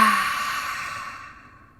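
A single long, breathy exhale during a breathwork class, close to the mic and slowly fading away with nothing else around it.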